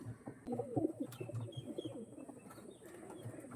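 Kolkata bloodline pigeons coo softly in low, rounded, repeated calls, faint and close, with a few scattered chirps and rustles around them.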